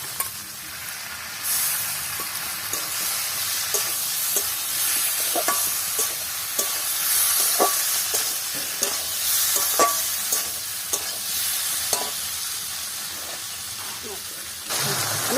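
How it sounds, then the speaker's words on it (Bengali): Radish pieces fry in hot oil in a pan, giving a continuous bright sizzle and hiss with repeated scraping and tapping of a stirring utensil throughout, steady and close. "একটু মুলোটাই দিয়ে দিলাম। ভেজে রাখি।"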